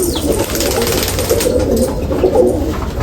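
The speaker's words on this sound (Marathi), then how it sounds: "हे बघा कशी कबूतर" Soft, continuous cooing of pigeons close by, a low murmuring that carries steadily through the short stretch without pauses.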